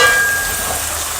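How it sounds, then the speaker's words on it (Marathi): Pigeon pea pods and fenugreek leaves sautéing in hot oil, giving a steady, loud, dense sizzle that holds evenly throughout. "कारण तेलामध्ये छान आपल्याला परतून घ्यायचे।"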